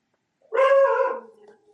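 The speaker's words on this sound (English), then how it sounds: "Whose dog is barking?" A dog lets out a single drawn-out, howling bark that fades over about a second, heard somewhat removed within a quiet township board meeting room.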